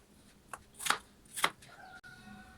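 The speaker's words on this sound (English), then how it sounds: "you just have to cut it in squares. I'm gonna need my big knife here." A big knife cuts peeled apples into squares with a few quick, close strokes, two of them sharper and louder, in a quiet kitchen.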